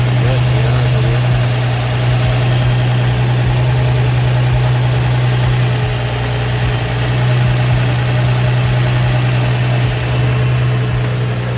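A car engine idles after a rod knock repair, a loud, steady low rumble that stays even throughout, with no clear knocking standing out.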